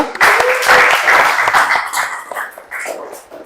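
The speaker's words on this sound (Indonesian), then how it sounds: "Tepuk tangan buat kelompok 2" Applause from a class of teacher trainees for group 2 after their discussion presentation, a dense burst of many hands clapping that rises quickly, holds steady and then thins out.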